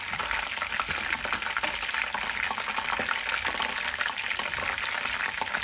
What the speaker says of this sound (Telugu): ఆకంతా ఇలా పైకి తేలేలాగా మనం వేయించుకోవాలి.